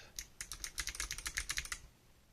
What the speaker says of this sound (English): So type some letters.